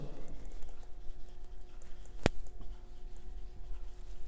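Handwriting on a surface during a geometry lesson on translation, with soft scratchy pen or chalk strokes at low level, one sharp click partway through, and no talking.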